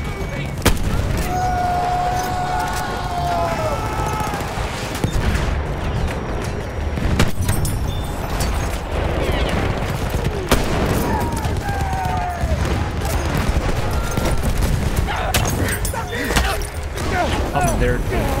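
Gunfire and distant booms in the Battlefield 1 video game, a dense ongoing battle of shots and explosions under near-constant player talk.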